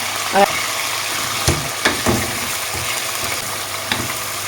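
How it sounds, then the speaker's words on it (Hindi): Chicken pieces frying in a pot with salt for an Afghani reshmi makhni chicken handi, a steady hiss and sizzle broken by a few sharp clatters of stirring, close and moderately loud. "अब इसमें चिकन डाल के इसको हम फ्राई करेंगे हस्ब जायका नमक डाल करके।"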